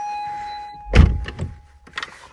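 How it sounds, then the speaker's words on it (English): A car door on a Toyota GT86 TRD 14R slams shut with one loud, close thunk, and a short rattle follows. A steady electronic chime or tone runs underneath beforehand, and a quieter knock comes a second later. "Let me shut the door."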